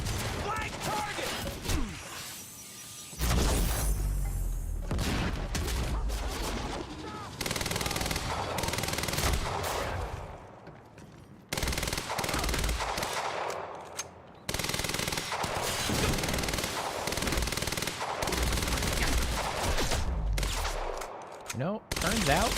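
Rapid SMG bursts in the action game Quantum Break rattle in repeated loud volleys broken by short pauses, mixed with combat effects and someone speaking between the firing.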